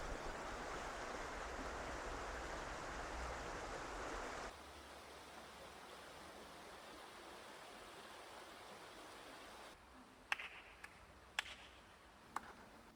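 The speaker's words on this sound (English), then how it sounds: "Whenever I go through this tunnel, I find myself stopping, sitting, and just taking it all in, especially with the sound of the water." Creek water runs steadily through a tunnel in Melbourne, a broad continuous rush that drops to a softer flow partway through, with a few sharp knocks or splashes near the end and no voices.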